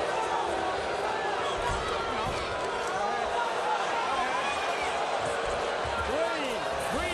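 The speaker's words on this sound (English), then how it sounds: "They're starting to moan." A large arena crowd at an NCAA wrestling championship bout murmurs and moans in a continuous, rising and falling swell, with commentary voices over the top.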